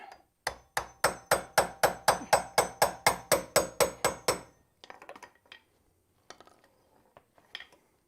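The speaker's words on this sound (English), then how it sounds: "I thought this chisel would cut that." A chisel is hammered to cut through a vehicle leaf spring: about fourteen loud, evenly paced metallic strikes in quick succession, followed by a few scattered, softer clinks and knocks.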